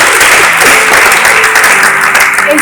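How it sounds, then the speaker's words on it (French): A church congregation claps loudly and steadily at close range, a sustained burst of dense applause. "Oh, applaudissons."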